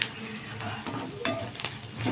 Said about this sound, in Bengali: আর এই যে ভাজছি,